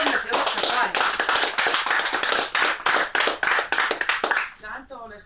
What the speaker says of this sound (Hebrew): מגיע להם הרבה מאוד מחיאות כפיים